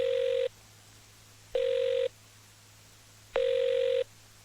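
Telephone ringback tone repeating three times, steady beeps separated by short pauses over a quiet hum.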